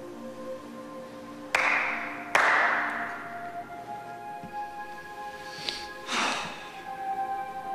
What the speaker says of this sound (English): Clap twice to make sure your God is listening